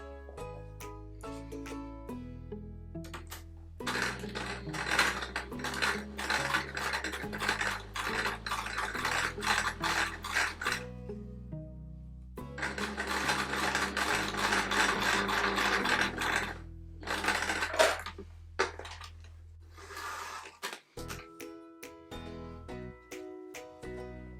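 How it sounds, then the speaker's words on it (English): A sewing machine stitches pairs of quilt pinwheel pieces together for a Peter Rabbit patchwork quilt, with two long runs of steady rapid mechanical whirring broken by pauses, faint clicks and handling sounds, recorded fairly quietly and close. "I'm now going to sew them all together, starting with these 2."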